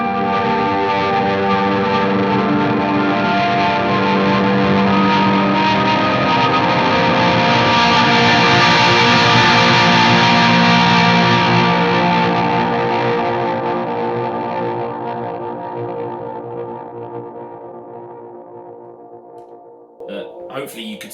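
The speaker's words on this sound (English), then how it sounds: "I turn down the gain on the amp because I want some distortion on it" Electric guitar played through an amp with the gain turned down for moderate distortion, in a band rig setup; a thick, sustained distorted chord wash with effects holds loudly, then fades toward the end before a brief final strum.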